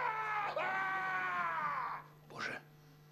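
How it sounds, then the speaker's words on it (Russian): A long, loud, sustained scream, then a short pause and a second brief cry, close and piercing. "Что это был за крик?"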